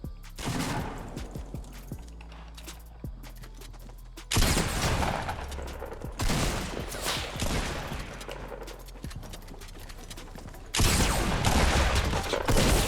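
Gunfire from a weapon in Fortnite Battle Royale, repeated loud shots in bursts with sharp, crackling reports between quieter pauses.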